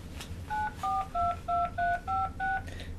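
Eight quick keypad tones sound in an even rhythm as a number is dialed on a toy Mr. Fixit phone, each beep short and clear over a quiet background.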